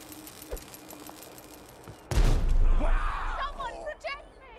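In the Dishonored 2 video game, a sudden heavy grenade blast booms out after a stretch of quieter background sound, followed by rumbling debris and clattering while a voice talks over it.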